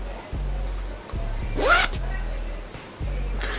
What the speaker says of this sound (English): Yeah, it's got a zip here.